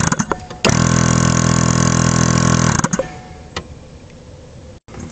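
An air horn compressor motor spins up with a loud steady buzzing whir for about two seconds, close by, then cuts off and winds down, followed by faint handling clicks.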